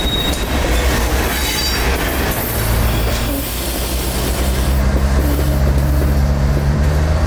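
A loaded freight train backs slowly into an industry track. Its rumble is loud and close, with a deep engine drone and rolling rail-car noise that continue without break, and faint wheel squeals mixed in.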